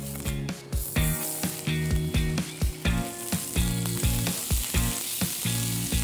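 Fish sizzles steadily in a hot pan, a continuous bright hiss with soft rhythmic thumps that sits under louder background music.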